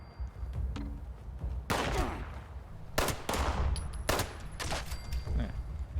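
Rapid bursts of gunfire from the video game Fallout 76 while aiming for headshots, several sharp loud volleys with ringing tails and brief gaps between them.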